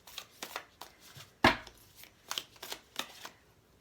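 Thick tarot cards are shuffled by hand in a series of quick riffling bursts and soft slaps, close and fairly quiet, with no talking.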